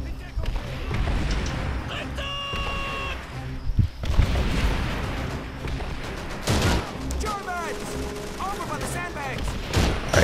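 Grenade blast and rattling gunfire in the video game Call of Duty 3, with sharp bursts of shots and a burst of explosion noise amid chaotic battle effects, while a player talks over the action.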